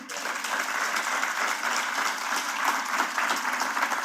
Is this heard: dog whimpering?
no